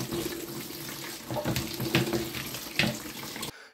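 Tap water runs steadily into a sink as fresh-picked blackberries are rinsed, a continuous splashing hiss with a few louder splashes, close and moderate, then it cuts off abruptly.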